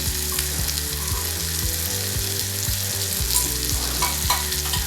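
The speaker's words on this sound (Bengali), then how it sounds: "নুন দিয়ে আস্তে আস্তে নাড়া হয়" Onions and tomatoes with salt sizzle steadily in a frying pan for Bengali aloo dum, with a spoon scraping and stirring through them in a repeated rhythm, close and fairly loud, no talking.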